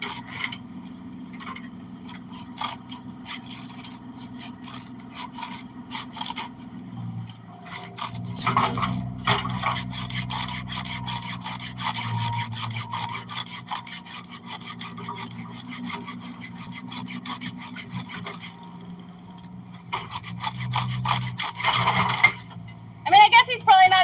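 A chainsaw chain is sharpened by hand with a file, giving repeated close metallic rasping strokes in an uneven rhythm, with some talk and scraping handling noises around them.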